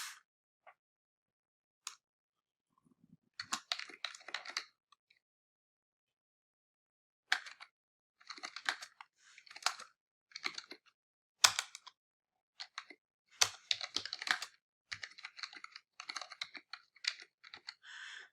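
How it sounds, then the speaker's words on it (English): Typing on a computer keyboard at home, heard as bursts of quick, close key clicks separated by short pauses, with no talking. "Gotta practice typing on my home row and not looking at the keyboard all the time."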